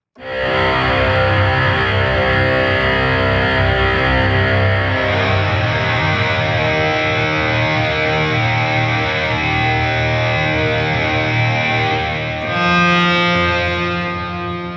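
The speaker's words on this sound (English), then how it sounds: "let's go ahead and check the long distortion sustains" Heavily distorted electric guitar from the Heavyocity Scoring Guitars 2 library holds long sustained chords, thick and loud, changing pitch a couple of times with no other sounds.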